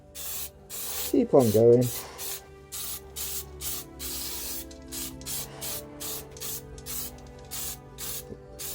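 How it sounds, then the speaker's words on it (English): Spray paint from an aerosol can misted onto a Reaper dragon miniature in short, light bursts of hissing spray, repeated rhythmically about every half second, close by, with someone speaking briefly early on. "So we just keep going through, just little 2 seconds on your spray"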